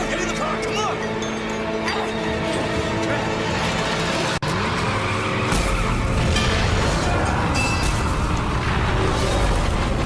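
Car engine driving in the Mad Max video game, a loud continuous motor roar with shifting pitch and a sharp bang midway, heavier rumble afterward, under excited talk.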